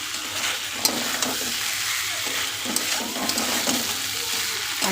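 Potato and pointed gourd curry with meat masala being sautéed, a continuous close sizzle and scraping stir through the whole stretch, no voices.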